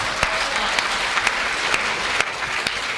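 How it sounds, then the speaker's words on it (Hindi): An audience at a Hindi comedy poetry recital claps steadily, with a few sharp, louder claps standing out above the continuous applause. "तालियां पीछे वाले कम बजा रहे हैं"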